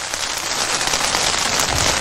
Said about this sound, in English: decent little rain shower coming through